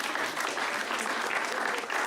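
Comedy club audience applauding a stand-up comic, a steady dense wash of clapping that stays loud and even for the whole stretch with no voice over it.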